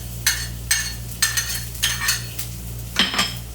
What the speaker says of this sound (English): we're going to add in 4 rounds of oil. And then we immediately add in the garlic and ginger